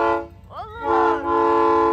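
A Volkswagen Beetle's horn honks in two bursts, with a warbling pitch bend between them, then holds a steady, loud tone close by.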